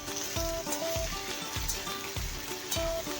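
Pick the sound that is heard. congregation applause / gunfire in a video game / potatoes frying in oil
potatoes frying in oil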